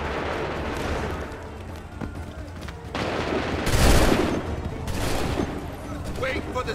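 Musket volleys ring out during a battle in Assassin's Creed III, several loud crackling bursts of massed fire, the biggest one near the middle, over a busy battlefield din with shouted voices.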